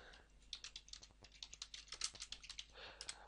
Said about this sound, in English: I'm going to type workout days.